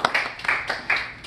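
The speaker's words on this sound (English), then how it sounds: "I'll clap." A person claps hands several times in loose, uneven bursts at a hockey fantasy draft gathering, fairly close and moderately loud, with no talk over the claps.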